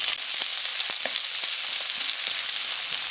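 Onion sizzles loudly in hot oil after garlic in a pan for ginisang munggo (sauteed mung beans), a steady close frying hiss with scattered crackles and pops throughout.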